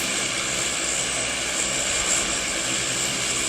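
A transport airplane's engine in the PUBG battle royale game gives a constant, loud propeller drone, steady and unbroken, with no talk.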